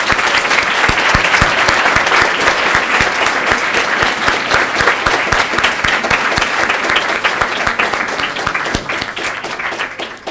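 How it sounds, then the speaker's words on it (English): A school graduation ceremony audience stands and gives a teacher a big round of applause. Close, loud, dense clapping from a large group fills the room and holds steady, then tapers off slightly toward the end. "can I please invite you all to please stand up and to give Mr. Perez a big round of applause to say thank you."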